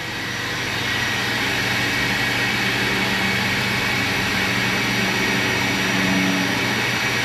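A supercharged engine roars continuously at high RPM on a dyno, a loud, dense and unbroken wall of engine and blower noise that holds steady for several seconds with no talking.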